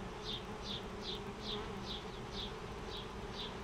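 Honey bees hum around a frame from a backyard hive, a steady close buzz with short rising whines as single bees pass by about every half second. No voices.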